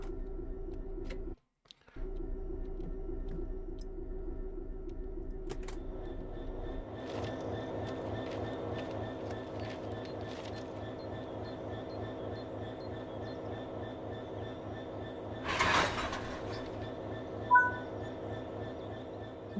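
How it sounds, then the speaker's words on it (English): Locomotive and coupled wagons in Train Sim World 4 rumble and clatter along the rails in a continuous, close rolling sound, with a brief dropout early on and a sharp hiss and clank near the end. "Couple the wagons to the locomotive."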